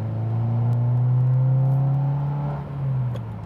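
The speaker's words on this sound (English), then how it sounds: "I like the exhaust. It's like throaty when you like really step on it." A Subaru WRX accelerates with a deep, throaty exhaust drone that holds steady and climbs slightly in pitch, close and loud, with no voices over it.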